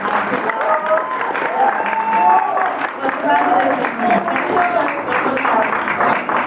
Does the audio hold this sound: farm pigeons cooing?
no